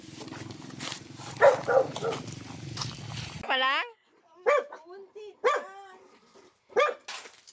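A dog barks several times in short separate bursts at moderate distance, after a stretch of muffled talk and background noise.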